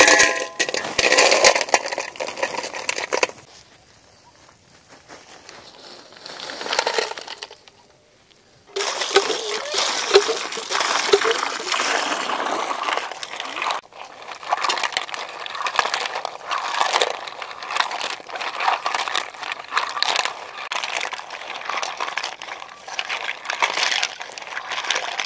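Freshly caught pond mussels being washed in water, with sloshing, splashing and shells clattering against each other in bursts, broken by a quieter pause partway through, close and fairly loud.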